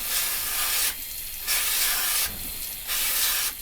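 A garden hose on a spray head blasts water onto a winter bike in three long hissing bursts, each broken by short pauses, close and steady.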